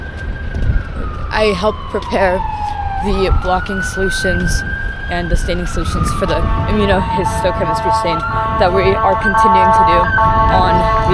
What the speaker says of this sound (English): You always hear sirens go off